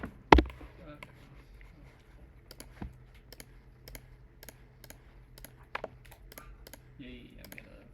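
Computer mouse and keyboard clicks while modelling a pumpkin in Blender, sparse close sharp taps and clicks scattered over a quiet room hum, with one louder knock at the start.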